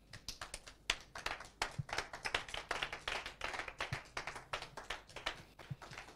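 A church congregation claps rhythmically together, a dense run of quick, even hand claps that continues steadily throughout, mid-distance and fairly loud, with no talking.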